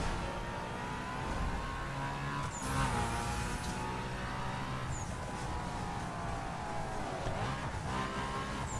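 A BMW X6M in The Crew drives at speed with a continuous, loud engine drone that rises in pitch as it accelerates, holding a steady roar with brief shifts in tone throughout.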